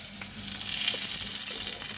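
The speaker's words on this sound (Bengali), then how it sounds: "মাছ ভালো কড়া করে ভেজে দেখো মাছগুলো আমার ভাজা হয়ে গেছে" Pieces of rohu fish frying crisp in hot oil, a continuous bright sizzle and spatter held at an even level from start to finish, close by and with no voices.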